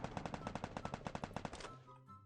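Rapid automatic gunfire in the Free Fire MAX mobile shooter game rattles off in a fast, even burst of around fifteen sharp shots, then stops, leaving faint game ambience behind.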